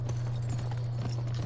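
A horse's hooves clip-clop in a steady trotting rhythm in a western shooting video game, fairly close and clear, with no talk over them.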